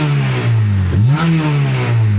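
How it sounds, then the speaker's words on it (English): 2006 Honda Accord Euro R engine revving up once from idle and settling back, loud and close with a steady low drone and a brief rise in pitch. "So have a quick listen to the engine."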